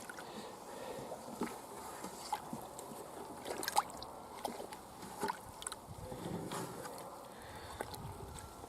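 Beaver tails are stirred in tanning liquid outdoors in the cold, giving soft, irregular sloshes and trickles, quiet and close, with a few sharper splashes.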